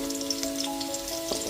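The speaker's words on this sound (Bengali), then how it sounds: "সজনের ডাঁটাগুলো দিয়ে দেওয়ার পর খুব ভালো মতো 1 মিনিট ধরে একটুখানি ভেজে নেব।" Drumsticks sizzle in a pan with potato and pumpkin as a constant, bright frying hiss. A steady tonal hum runs underneath, and faint stirring ticks come toward the end.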